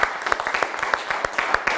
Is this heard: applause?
yes